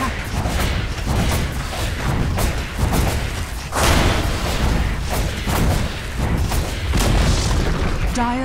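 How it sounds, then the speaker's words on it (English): A tower is destroyed in the Dota 2 video game: heavy booms and thuds roll through dense, continuous battle noise, loud and crowded, with more impacts layered over the top. "Dire's middle tower has fallen."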